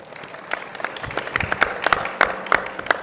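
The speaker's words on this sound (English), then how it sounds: "Give yourselves a big round of applause." Applause from a conference audience at a federal technology forum, a thin scatter of individual claps building over three seconds, moderately close and with no talk over it.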